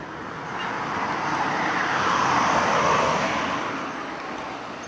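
A car drives past on a rain-wet road in Okinawa, Japan, its tyre hiss swelling steadily over a few seconds and fading again, moderately close with no talking.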